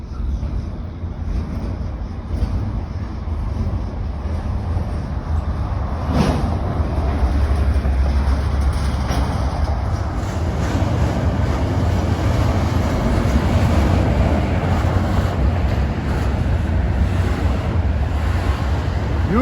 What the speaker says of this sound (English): Usually the monster-sized intermodal trains get helpers on the rear. And this one looks about a couple of miles long.